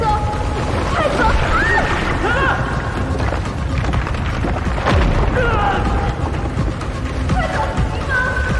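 A bomb goes off in a horror film scene: a heavy rumbling boom and dense roar fill the whole stretch, with shouting voices over the top.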